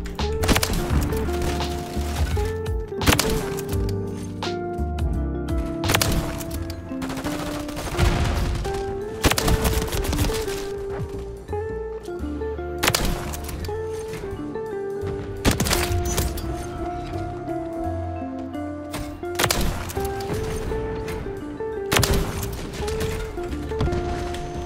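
Rapid gunfire rings out in a first-person shooter game, with repeated loud bursts and sharp cracks separated by short gaps over a busy game-sound background.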